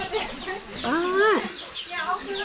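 A farm chicken in rural Laos, about to be slaughtered for cooking, gives rising and falling clucks and squawks, close and fairly loud over light background noise.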